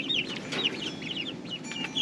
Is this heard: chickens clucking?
yes